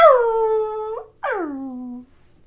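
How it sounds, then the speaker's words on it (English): A dog howls in two long, wavering calls close by, the first steady and ending in a rising note, the second sliding downward after a brief pause, with no talk over it. "Alright, so that's Max the dog"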